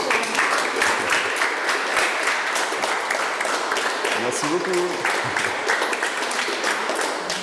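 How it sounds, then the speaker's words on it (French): An audience applauds steadily at a school orientation session after a talk by a technical crowd supervisor, with dense continuous clapping throughout and a person speaking briefly over it. "Je pense qu'on peut applaudir avant les questions"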